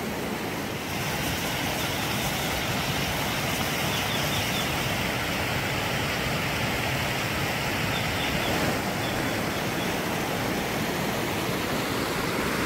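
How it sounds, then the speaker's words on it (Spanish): Rushing water currents flow after heavy rains, a dense continuous roar of a swollen stream or river, loud and steady throughout with no voices. "Y ahí vemos las hermosas corrientes del agua, ¿sí? Resultado ya de las lluvias."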